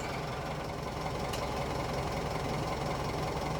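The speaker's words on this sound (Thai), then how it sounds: "เหยียบคลัตช์" Car clutch noise as the clutch pedal is pressed, a steady close engine drone with a faint rattling knock, even throughout, with no talking.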